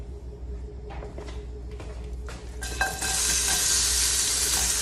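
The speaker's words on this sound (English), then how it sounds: "I'm gonna add the onions in." Chopped onions hitting hot oil in a cooking pot, a sudden loud broadband sizzle bursting in midway after a few clatters and settling into a steady, close frying hiss.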